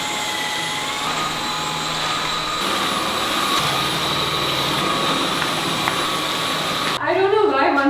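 A premium household vacuum cleaner runs steadily through a dusty, mostly empty 1500 sq. ft house, a loud continuous whine holding throughout before cutting off near the end.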